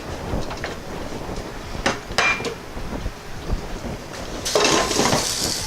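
A metal lid set back onto a pot of boiling spaghetti, a couple of close clanks and rattles against the rim over a rough bubbling background, no talking.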